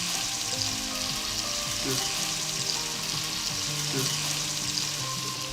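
Octopus fries in a pot with spices, giving a steady close sizzle with a few brief stirring scrapes, and no talk.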